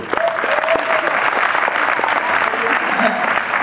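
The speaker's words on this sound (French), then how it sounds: "Je vous demande d'applaudir, s'il vous plaît." Loud, steady applause from a cinema audience at a film premiere, sustained and even throughout, with some voices faintly underneath.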